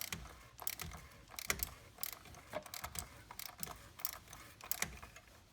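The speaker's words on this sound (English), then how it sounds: "We can grab our ratchet. We'll go ahead and tighten that down until it's snug." A hand ratchet tightening the oil drain plug on a Chevy Trax, with quiet, rapid clicking bursts repeated in short runs, close and fairly faint, with no speech.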